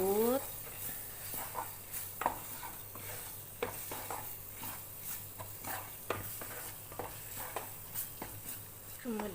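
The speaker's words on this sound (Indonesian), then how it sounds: "Lalu kita masukkan tepungnya dan goreng sampai" Flour frying and being stirred in a pan, with a broad steady sizzle and repeated scraping strokes of a utensil at a fairly even rhythm, close and moderately quiet.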